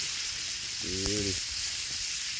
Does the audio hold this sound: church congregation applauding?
no